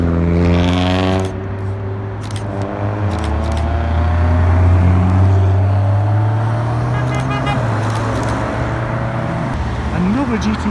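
A powerful supercar engine roars and drones loudly through its exhaust with shifting pitch as it revs and passes close by in Alderley Edge, with voices faintly underneath.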